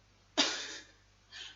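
A person gives one sharp, close cough that trails off, then a softer second cough shortly after, in an otherwise quiet room.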